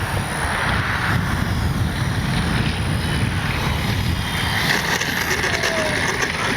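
An Arrows F4U Corsair RC warbird's electric motor drones steadily through the whole stretch, partly masked by heavy wind rumble outdoors, with a voice talking over it.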